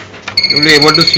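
A Kusam Meco KM 8500 digital milliohm meter sounds its alarm, a steady high electronic beep tone that starts partway through, under someone talking.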